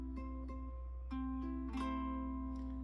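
Ukulele notes ring out, single plucks followed by a few strummed chords, close and clear with no talking.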